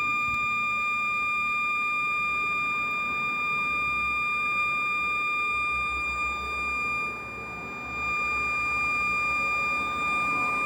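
A metal detector set too fast gives a constant shrill mosquito-like tone that drones on for several seconds over low rumbling noise, dipping slightly in level partway through, with no voices.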